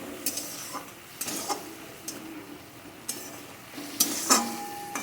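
Cashews and raisins are stirred in a pan for a banana-flower ghonto. Close, intermittent scrapes and clinks of the utensil sound over a soft, continuous sizzle.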